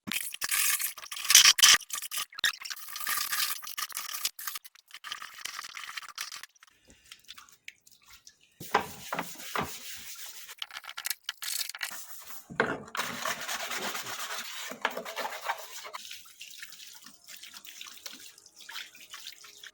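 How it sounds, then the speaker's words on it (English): The outer drum of a washing machine under repair, dirty and with rusted bearings, is scrubbed and rinsed by hand: bursts of wet rubbing and running water come and go with short pauses, close and moderately loud. "I have now cleaned the outer drum thoroughly"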